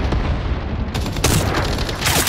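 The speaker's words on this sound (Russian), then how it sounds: "Бросаю гранату" A grenade detonates in Battle Teams 2, a loud booming blast followed by sharp broadband cracks and more bursts, with gunfire mixed in amid continuous battle noise.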